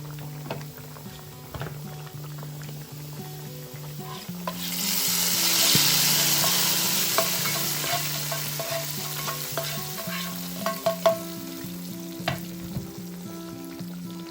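Curry leaves and ground masala fry in a pan for a tuna fish gravy, a soft sizzle swelling midway under repeated scraping stirs and occasional clinks of the spoon, close and moderate in level.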